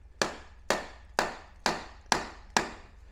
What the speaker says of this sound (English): we can give them a bit of a tap, and in fact I'm going to. So, bit of nylon hammer.